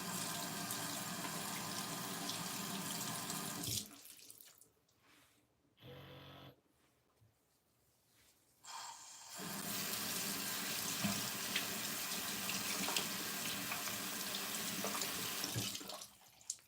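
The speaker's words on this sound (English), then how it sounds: "I'm gonna wash some of this product off." Water runs steadily from a bathroom tap into a sink during face washing, a close hiss that stops for several seconds while splashing and rubbing sounds come through, then starts again at full flow.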